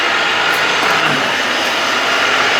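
A Mazda RX-7 FC3S with a naturally aspirated, bridge-ported 6-port 13B rotary engine runs in a loud, steady, dense roar that stays even and continuous throughout, with no talking.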